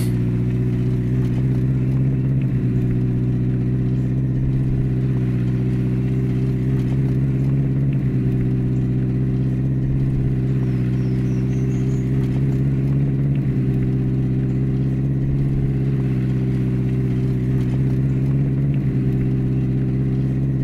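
Steady mid-pitched car engine hum from a vehicle driven in the game Border Officer, holding a constant drone with slight shifts in revving throughout, no talking.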